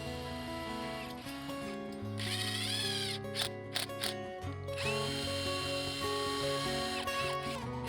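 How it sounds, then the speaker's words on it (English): A power drill drives fascia screws into deck stairs, whining up and down in pitch through repeated bursts with brief pauses and mechanical clicks between them, close and fairly loud, with no voices. "Then fasten them with fascia screws."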